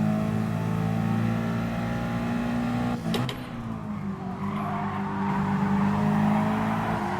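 Mercedes-AMG race car in Gran Turismo Sport, a GT League 4WD Challenge race, its engine droning loud and steady throughout, with a brief sharp transient midway as the revs dip and then climb again.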